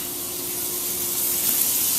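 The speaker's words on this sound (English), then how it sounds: "Add in our remaining butter, kind of let it, it's going to melt pretty quick because this pan was just on for a few minutes." Butter melts in a hot skillet with a steady, loud, broad hiss and sizzle that builds slightly toward the end, with no one talking.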